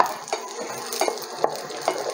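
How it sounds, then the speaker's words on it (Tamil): Roasted groundnuts and chillies being stirred in a pan with the heat off, a handful of soft scraping strokes spaced about half a second apart over a faint dry hiss, close and quiet. "அடுப்பை ஆஃப் பண்ணிவிட்டு இது வதக்கினால லைட்டாக போட்டு கிளறி விட்டுக்கோங்க."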